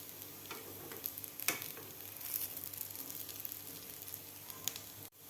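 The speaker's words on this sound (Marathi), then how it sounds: "दोन्ही बाजू आपले व्यवस्थित फ्राय झालेले आहेत." A green pea and spinach veg cutlet tikki frying in a pan, a faint steady sizzle with a few light clicks and a brief clatter near the end, no talking.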